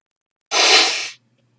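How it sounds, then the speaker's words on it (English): One close, loud sneeze bursts out abruptly and fades within about half a second, alone against silence. "I'm going to sneeze here."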